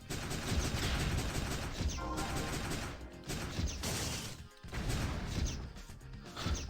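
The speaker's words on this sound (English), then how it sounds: "They're drop down bombs, you've got to avoid them." Drop-down bombs in the Metagal video game burst in a dense, continuous clatter of crashing explosions and busy game noise, loud with brief gaps between volleys.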